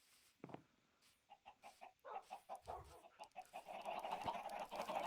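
Scattered short clucks from several chickens in Minecraft, coming faster and denser toward the end, with a busy mid-range texture building up behind them.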